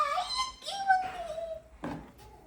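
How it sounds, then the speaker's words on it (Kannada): A 35-day-old puppy gives high, wavering whimpers and short whines, close and fairly soft, in brief bursts with pauses between. "ಈ ಚಿಕ್ಕ ನಾಯಿ ತಂದೈತೆ"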